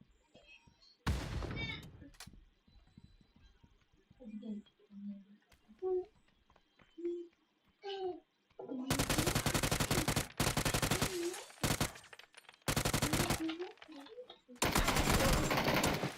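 PUBG squad match with bursts of loud automatic gunfire and a grenade blast arriving in heavy dense blocks, separated by quieter gaps where people talk over the game.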